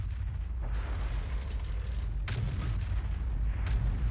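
Tank cannon fire and a shell impact in the game Oxagon, with an M53/M55 vehicle involved: a low rumbling bed with sharp broadband booms near 0.7, 2.3 and 3.7 seconds, fairly loud and with no talk over them.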